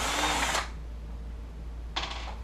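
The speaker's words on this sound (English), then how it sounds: "Now at this point, I'll just take a drill. I can undo this screw here." A cordless power drill whirs briefly to back out a screw on a window jamb spreader, then stops; after a short pause it starts again with a second brief, close, loud burst.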